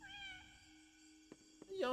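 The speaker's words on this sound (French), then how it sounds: "Attends, c'est moi ou j'ai entendu un miaou?" A single drawn-out electronic cat meow from the video game Indigo Park, clean and tonal, followed by a couple of soft clicks and a brief burst of sound at the end.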